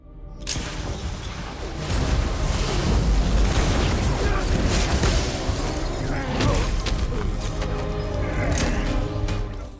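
A police station blows up in a film scene, set off by incendiary material: a sustained, loud roaring blast with crackling debris and rumble that fills the whole stretch, mixed with chaotic action sounds.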